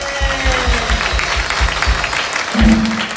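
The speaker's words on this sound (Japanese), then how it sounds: "拍手。" An audience applauds at a live tribute band concert in Osaka, with rhythmic clapping throughout and a sustained tone entering near the end.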